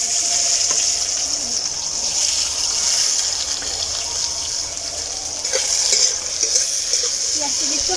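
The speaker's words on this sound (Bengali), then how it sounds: "পেঁয়াজটা একটু হালকা লাল লাল ভেজে নেব।" Onions fry in a pan with dried red chillies and potato, giving a steady bright sizzle throughout, with occasional scraping stirs close by and no talk.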